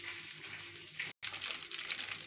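A breaded chicken escalope sizzles loudly in hot oil, a constant crackling hiss close up, briefly cut by a split-second gap of silence.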